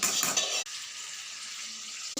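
Jackfruit fritters frying in hot oil and being turned, a steady close sizzle with a brief clink of a utensil at the start and no voices.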